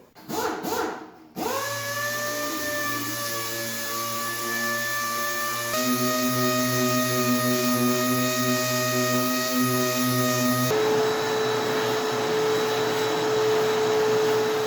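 A dual-action sander works over a plastic bumper on a 1978 Monte Carlo, a steady, loud motor whine with a low hum that runs continuously, shifting pitch slightly as the pad presses and moves across the surface.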